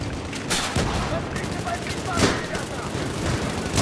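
Rapid automatic gunfire from an M60 machine gun in a multiplayer shooter video game, sustained bursts and overlapping shots running throughout at steady loudness, with voices talking over the shooting.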